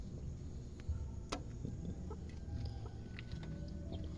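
Five-month-old Japanese Shamo chickens cluck softly and intermittently at a distance over a steady low background hum, with occasional faint sharper calls.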